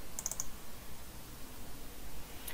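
A computer mouse double-clicks while opening a remote in file-syncing software on Windows 10, with a quick pair of faint clicks early on and one more soft click near the end over a quiet background.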